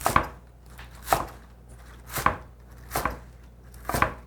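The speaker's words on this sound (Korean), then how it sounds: "이렇게 두드려 주고 한 3cm에서 한 4cm만 하게 썰어 주세요" Knife chopping scallions on a cutting board into pieces about 3 to 4 cm long for young-radish kimchi, five sharp separate chops at a steady, unhurried pace, close and alone.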